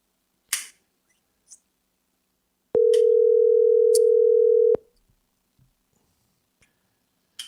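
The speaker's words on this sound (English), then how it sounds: "I'm trying to get her on the phone." A telephone calling tone rings out as a co-host is dialed: one steady, loud electronic tone lasting about two seconds, bracketed by a few faint clicks and ticks on an otherwise quiet line.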